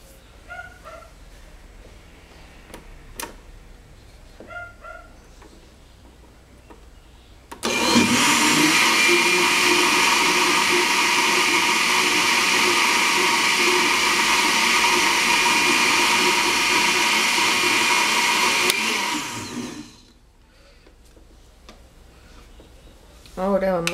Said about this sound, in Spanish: Volvemos a licuar y ya al final es que incorporamos el coco rallado.